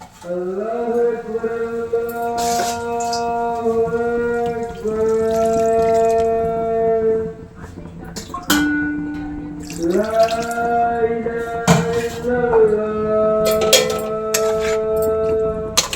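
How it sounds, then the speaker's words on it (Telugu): Water poured into a pan of gongura prawn curry, a running splashy flow heard under steady tonal music, with brief drips and clinks between pours. "ఇప్పుడు ఇందులో కాస్త వాటర్ పోసుకుందామండి."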